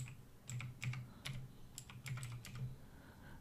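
Quiet, close keyboard typing into a Windows search box: a short run of about a dozen crisp key clicks in uneven rhythm, with no voices.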